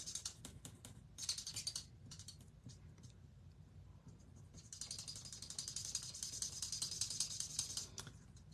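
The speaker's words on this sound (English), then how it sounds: "When you use the bullet tip, it's squeaky." A bullet-tip marker squeaks across paper in bursts of short strokes, then a longer stretch of steady squeaky scribbling, close up with no talking.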